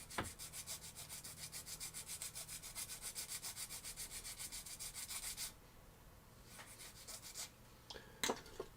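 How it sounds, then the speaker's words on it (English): Rhythmic rasping of a file worked back and forth along the sides of a plastic model kit part, close and quiet, a rapid run of strokes that stops, then a few scattered scrapes and small clicks. "And do a little bit of filing on the sides."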